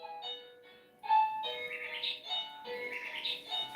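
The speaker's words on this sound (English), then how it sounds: "I think my doorbell's broke" A home doorbell chimes in a few melodic electronic tones, moderately loud, with faint background noise between the notes.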